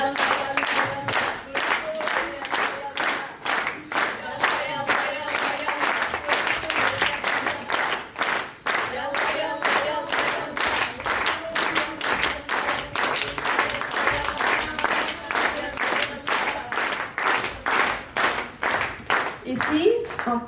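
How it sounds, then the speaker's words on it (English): An audience claps along in a steady, fast rhythm at a live performance, loud and sustained throughout, with voices carrying over the beat. "Allez, please clap with me."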